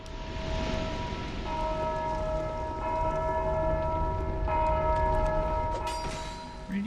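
A large bell tolls in the Undead Crypt of Dark Souls II, its sustained metallic ringing holding steady with layered overtones across the whole stretch, loud and resonant over a dark ambient rumble.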